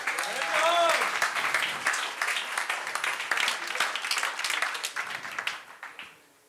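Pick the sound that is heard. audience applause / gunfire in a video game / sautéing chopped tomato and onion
audience applause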